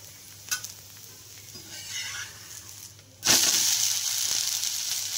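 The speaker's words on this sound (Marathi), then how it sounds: "याचा आता उत्तप्पा बनवणार आहे शिवात्मजासाठी" Uttapam batter of semolina and rice flour is poured onto a hot pan: quiet clinks and shuffling, then a sudden loud sizzle bursts up about two-thirds through and holds steady, near and with no talking.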